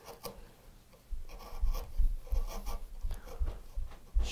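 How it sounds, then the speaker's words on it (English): A chisel pares thin, wispy shavings off a piece of wood, close up, with soft scraping strokes in short bursts that repeat irregularly, alone without talk. "Shaving off these little bits, this is where it gets fun. You get these nice little wispy shavings."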